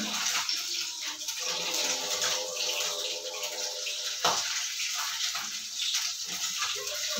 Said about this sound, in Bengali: এখন মাছটা ভেজে নিচ্ছি।